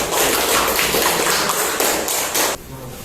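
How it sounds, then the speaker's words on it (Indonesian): Classroom applause for a student group after a presentation, a dense burst of many hands clapping close by for about two and a half seconds before cutting off to quieter room sound. "kita beri aplaus untuk kelompok 2"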